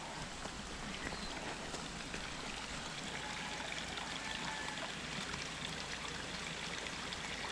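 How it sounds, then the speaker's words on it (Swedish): A stream swollen after several days of heavy rain babbles and trickles steadily along a hiking trail, an even, continuous gurgle heard close and alone. "Porlar i bäcken."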